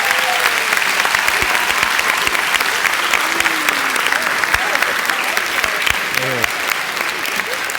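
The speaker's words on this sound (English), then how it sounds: "please give yourselves a round of applause tonight" Families of the 2019 graduating class fill a ceremony hall with loud, sustained applause. Dense clapping continues the whole time, with scattered cheers and voices from the crowd mixed in.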